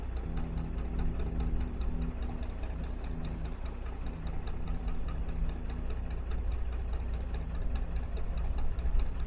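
A steady, rumbling motor chugs continuously at close range with a regular knocking pulse, like an umpires' launch running past on the river at Henley Royal Regatta, with no talk over it.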